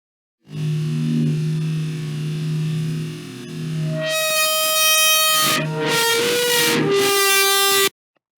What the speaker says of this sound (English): if I open my funny horn sound and I listen to how it sounds when it's distorted